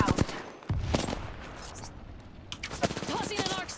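Gunfire in the Apex Legends battle royale game, with sharp bursts of automatic shots cracking in clusters at the start and again near the end, loud and close, with other game sounds in between.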